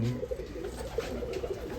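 Pigeons imported from the UAE coo softly in low, murmuring pulses under a steady background hum, close by and brief.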